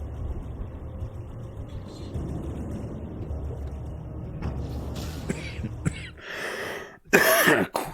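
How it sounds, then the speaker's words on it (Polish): A person near the microphone coughs in several sharp, harsh bursts toward the end, after a stretch of low game ambience from Alan Wake Remastered. "ale mi bierze ten kaszel"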